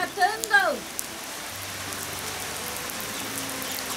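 Heavy rain pours down in a dense, steady hiss after a brief burst of voices at the start, continuing alone and evenly for the rest of the clip.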